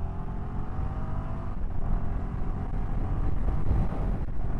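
Royal Enfield Himalayan 450 motorcycle pulls hard uphill, its engine note rising steadily with brief dips at clutchless upshifts, loud and close amid rumbling wind noise.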